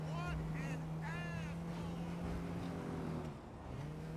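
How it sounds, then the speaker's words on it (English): A damaged taxi's engine in GTA 5 drones with a steady low hum, while someone talks over it throughout. "Jesus, this car's not making a good sound."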